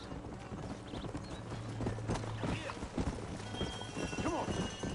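Horse hooves clip-clop at a gallop in Red Dead Redemption, a steady rhythmic beat running under game music and an occasional neigh, with someone talking over it.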